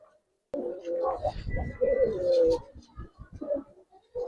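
Giribaz and coloring pigeons, among them an old female, coo in a soft rolling run of calls, one longer drawn-out coo standing out near the middle, close by and fairly clear.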